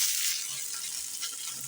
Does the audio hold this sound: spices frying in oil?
yes